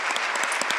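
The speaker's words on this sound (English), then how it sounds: "Big round of applause." Steady applause from an audience, a dense wash of clapping hands throughout with no pauses.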